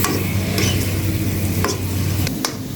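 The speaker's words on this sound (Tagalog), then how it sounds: "Nagisa-gisa ko na po yung bawang at sibuyas" Garlic and onion sautéing in a pan, a continuous close sizzle broken by a few sharp scrapes and clinks of a spatula stirring, with no speech.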